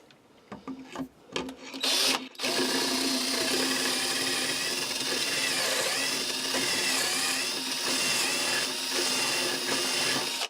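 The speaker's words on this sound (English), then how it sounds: "all I have to do now is just drill down." A power drill whirs steadily for several seconds after a few short knocks and bursts, its motor hum loud and close, grinding into scrap wood for a side table.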